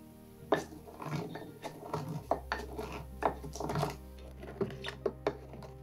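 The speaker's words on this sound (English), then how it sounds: "I tried to actually grind things in a wooden mortar and pestle" Spices being ground in a wooden mortar and pestle: irregular dull knocks and scraping taps, close and fairly quiet, with a low steady hum in the background.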